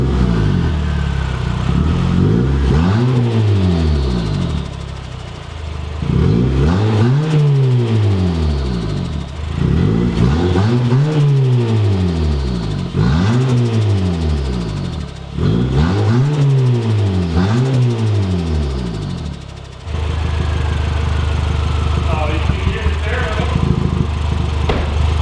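A custom-turbocharged daily-driver car engine revs repeatedly, rising and falling in several loud bursts with idling between, ending in a steady drone.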